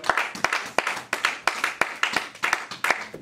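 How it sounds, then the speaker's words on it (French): A church congregation applauding in praise worship, steady rhythmic hand claps in unison at a brisk regular beat, fairly close and clear with no voices over them. "On applaudit le roi des rois."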